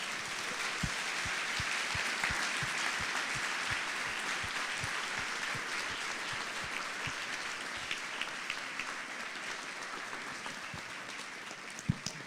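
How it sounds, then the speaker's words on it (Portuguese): A church congregation claps together for God at the close of a prayer, a steady dense wash of applause sustained for about twelve seconds, with a few sharper individual claps standing out. "oramos, agradecemos e aplaudimos o nosso Deus"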